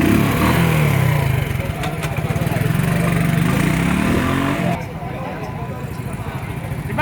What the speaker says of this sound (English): It's a 110cc engine, but it's light, it's nimble, making U-turns is easy.